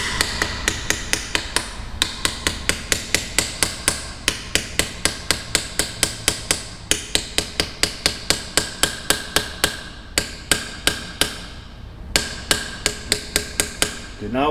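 Rapid, steady metallic hammer taps on plunger pump parts being reseated, many sharp strikes in quick succession with brief pauses, close and fairly loud.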